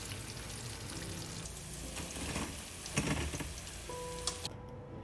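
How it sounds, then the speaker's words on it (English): Pork pieces deep-frying in hot oil for sweet and sour pork, a steady dense sizzle and crackle with scattered pops and a few light clinks as the pieces are moved around, no talking. "Then gently move the pork around with a strainer so it fries evenly."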